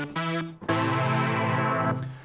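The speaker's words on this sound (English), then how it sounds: "this one comes from the Oliver synth pack on Splice and sounds like this" A synth fill preset from the Oliver synth pack on Splice plays alone: a short held tone, then a rich, bright swelling chord that sustains for over a second before releasing into a soft fading tail.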